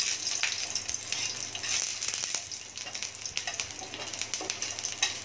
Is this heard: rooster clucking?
no